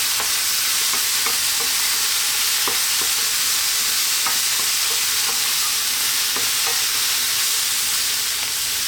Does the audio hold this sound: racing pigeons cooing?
no